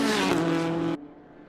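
Porsche Cayman race cars in a racing video game, a loud sustained engine drone with steady harmonic tone that cuts off abruptly near the end, leaving a faint low residue.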